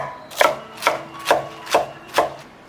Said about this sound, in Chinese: 还有洗干净的芥菜切碎